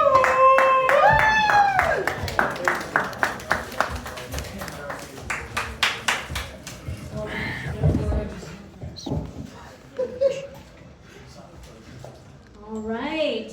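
Open mic crowd at Milkie's clapping for a performer, with a burst of quick rhythmic claps under a host's voice, then scattered hand claps, shuffling and talk continuing on stage.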